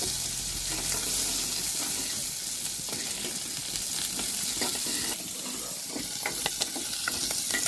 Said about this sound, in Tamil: அந்த வெங்காயம் பூண்டு 2 வதங்கிட்டு இருக்குல்ல